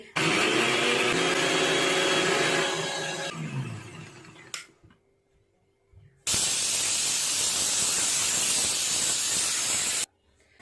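Pressure cooker whistles loudly as steam hisses out while potatoes boil on a home kitchen stove, two long sustained bursts separated by a short quiet gap, with no talking.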